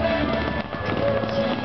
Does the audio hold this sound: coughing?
no